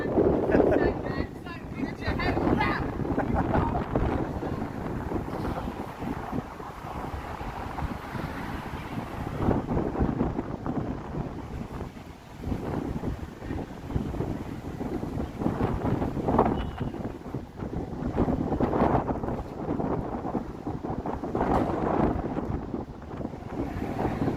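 Wind buffets a handheld microphone outdoors in downtown Toronto on an evening street, producing heavy, rumbling gusts that rise and fall under occasional speech.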